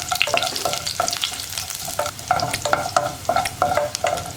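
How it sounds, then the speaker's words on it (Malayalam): Sliced onion rounds frying in hot coconut oil with popped mustard seeds, a steady crackling sizzle with repeated stirring scrapes in a rhythmic pattern, close and fairly loud with no talking. "നമുക്കിതിലേക്ക് ഉള്ളി റൗണ്ടിൽ കട്ട് ചെയ്തത് ചേർക്കാം"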